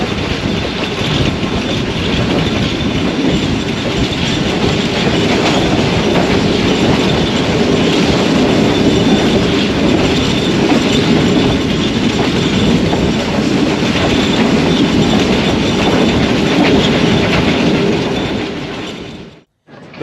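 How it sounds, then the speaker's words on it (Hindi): A train running slowly on railway tracks at reduced speed under a caution, a steady loud rumble with clickety-clack of wheels throughout, heard from on board and fading out at the very end. "इस सेक्शन में ट्रेन की रफ्तार बहुत कम थी"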